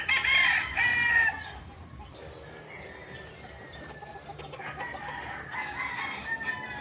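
A Super Brown Red gamefowl rooster crows loudly and close, and the call breaks off after about a second. Quieter crowing and clucking from other fowl follow, with a faint higher crow building again toward the end.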